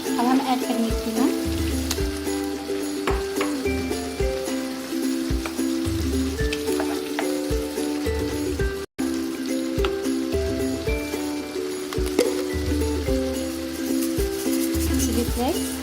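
Chicken keema sizzling and frying in a pan with tomato for keema pasta, a steady crackling sizzle with intermittent stirring scrapes, close and moderate in level with no voices.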